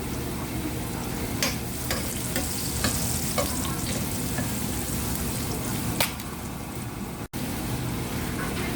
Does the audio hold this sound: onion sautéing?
yes